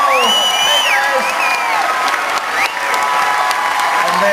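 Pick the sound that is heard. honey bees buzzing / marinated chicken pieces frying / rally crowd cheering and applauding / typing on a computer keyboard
rally crowd cheering and applauding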